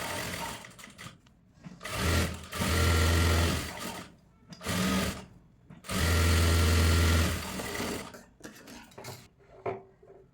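Sewing machine stitching a child's jumpsuit, running in two sustained bursts with a steady low motor hum and fast needle rattle, separated by quieter pauses with fabric handling.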